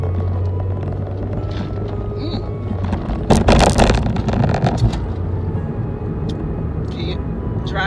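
A car being driven gives a steady low engine and road rumble inside the cabin, with a brief burst of rattling noise partway through and no clear speech.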